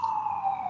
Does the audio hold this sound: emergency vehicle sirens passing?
yes